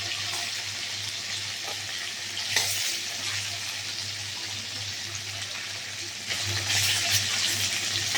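Fish frying in hot oil in a pan, a continuous hissing sizzle with occasional louder spatters and a low steady hum beneath, swelling near the end, no talk.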